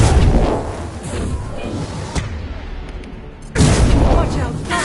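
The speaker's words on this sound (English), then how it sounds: "Watch out, flashbangs!" Flashbang blasts and gunfire in the video game Mass Effect 2 build into loud, dense combat noise with a sharp bang midway and another burst near the end, mixed with voices.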